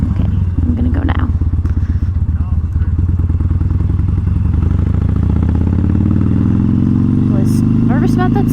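A motorcycle pulls away with a loud, close engine rumble that rises in pitch as it accelerates, with a thump and some clatter near the start.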